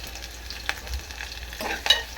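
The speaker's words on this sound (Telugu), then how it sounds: "ఇప్పుడైతే కరివేపాకు వేసేస్తున్నాను." Curry leaves sizzle in hot oil in a pan for a potato fry, a brief crackling burst with stirring scrapes, close and moderately loud, with no talking.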